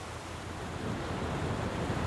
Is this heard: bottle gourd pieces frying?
no